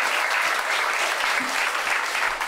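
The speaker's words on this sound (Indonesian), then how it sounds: "Terima kasih tepuk tangan untuk Dimas." An audience at a school patron-day mass claps together in a dense, steady burst of applause that stays even and fairly close for a couple of seconds.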